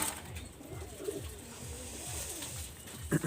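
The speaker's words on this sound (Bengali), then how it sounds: "দেখেন টপ কোয়ালিটির এক জোড়া কবুতর আমি দেখাচ্ছি" Pigeons of a flying breed coo softly in a low, repeated rhythm, several throaty calls close by under faint background noise.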